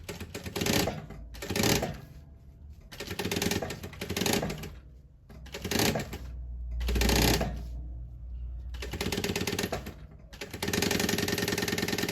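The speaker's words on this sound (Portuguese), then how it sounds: "Vou costurar o terceiro bolso aqui, em seguida aqui." A sewing machine stitches a pocket onto a synthetic fabric marker case in repeated short bursts of rapid mechanical clatter separated by pauses, ending in a longer continuous run.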